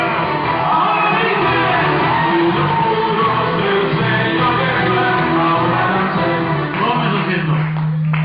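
A church congregation at a worship service shouts and cheers praise to the King, a dense, loud, continuous wall of many voices lasting the whole stretch without a break.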